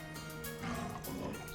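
Pack of monster wolves growls low and menacing around a stopped bus in Trails through Daybreak, a continuous rumbling snarl mixed with faint game ambience and no speech.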